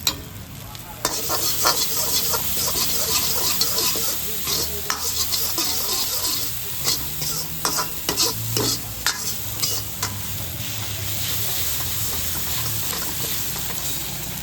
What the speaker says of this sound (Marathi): आता हे करून आपण घेऊया थोडासा मिक्स